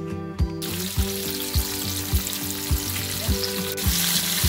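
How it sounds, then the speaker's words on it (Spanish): Mojarra fish sizzle and crackle steadily in hot frying oil, with a dense hiss running throughout and periodic low thumps from the pan or utensil roughly every half second; nearby and moderately loud, with no one speaking. "Que están cubiertas, procedemos a freírlas. Yo ya tengo aquí el aceite calentando."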